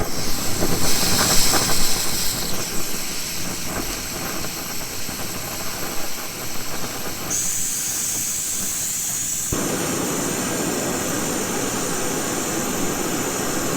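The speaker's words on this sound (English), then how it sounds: "We'll start by firing up this stove." A cheap camping and backpacking stove burner, a clone of the MSR Pocket Rocket 2, roars at full blast with a loud, steady hissing rush that shifts slightly in tone partway through; no talking.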